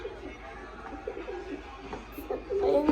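Pigeons in a coop give soft, low coos in short repeated phrases, close by, with a few brief other noises around them.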